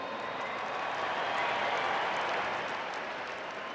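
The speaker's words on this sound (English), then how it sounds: "Round of applause." Stadium crowd applauding at the 2012 NRL grand final between Canterbury-Bankstown Bulldogs and Melbourne Storm, a steady distant wash of clapping and crowd noise without a break.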